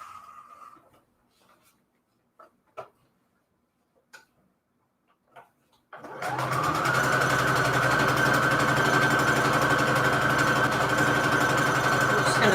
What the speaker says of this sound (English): I'm just gonna sew all the way across so that it connects with this line right here